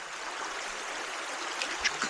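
River rapids rush past, a steady broad wash of churning water close by with a few faint splashes near the end.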